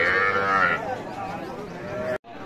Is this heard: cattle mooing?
yes